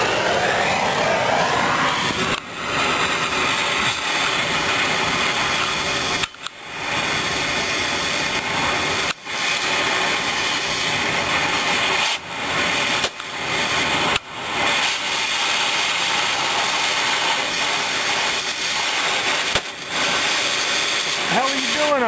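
A power tool cuts off a part during removal of the motor from a 1970 Chevelle, a loud, steady grinding whine running nearly unbroken with a few brief dips, voices talking faintly under it.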